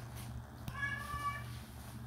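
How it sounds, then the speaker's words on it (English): A pet cat meows indoors, giving one clear, drawn-out meow with a rising-and-falling pitch at moderate loudness over a low background hum, with a faint click before it. "give my cat something to hush"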